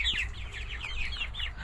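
Homestead chickens, including a possible rooster, cluck and chirp in a steady run of repeated calls, close and fairly quiet over a low rumbling background.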